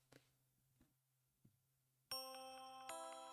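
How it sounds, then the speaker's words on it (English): Soft tapping and a low hum, then a bright struck bell tone from a bell mallet sound effect rings out loud and sustained, with a second strike layering on top. "Bell mallet."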